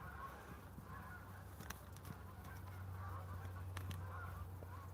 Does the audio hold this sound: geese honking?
yes